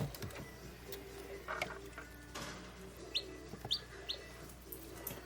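Newly hatched chicks chirp in quiet, scattered short peeps, faint and intermittent against a low background hum, with a few brighter tweets toward the end.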